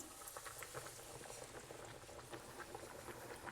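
Breaded wagyu tenderloin katsu dropped into hot frying oil gives a continuous, dense, crackling sizzle with fine bubbling, steady and fairly quiet, with no talking.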